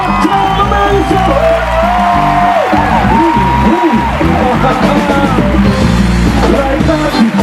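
A loud crowd screams and cheers at a lively stage show, sustained yelling and whoops mixed with music and shouting from the stage that fill the whole stretch.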